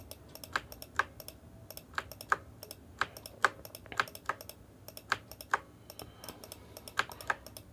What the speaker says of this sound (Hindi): अल्ट प्रेस करें क्लिक करें और इस तरह से ला छोड़ दें